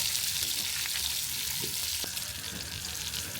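Green chillies fry in a pan for chicken bhuna khichuri, giving a steady, close, loud sizzle and hiss with faint stirring scrapes and no talk.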